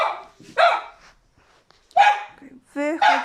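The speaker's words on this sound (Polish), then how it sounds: "Jak my wychodzimy, to zawsze Kropek szczeka" A house dog barks as people leave the house, three close, sharp barks with whiny edges, separated by short pauses.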